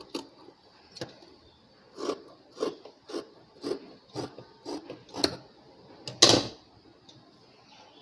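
Scissors cut through blouse fabric to shape the sleeves, giving a series of short, crisp rasping snips at an uneven rhythm. Quiet pauses fall between the snips, and one louder cut comes near the end.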